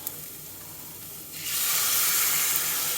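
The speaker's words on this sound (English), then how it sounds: "So we're gonna add our eggs with cheese in them and the spices and stuff." Beaten eggs mixed with cheese and spices hit a hot pan over crispy cooked ingredients for a frittata, a quiet sizzle jumping midway to a loud, steady hiss that holds to the end, with no talking.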